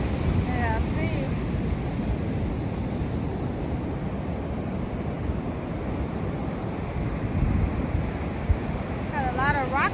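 Ocean surf and gusting wind on a rocky South African beach roar continuously, with heavy low rumble and microphone buffeting throughout, and a few faint high chirps near the start and end.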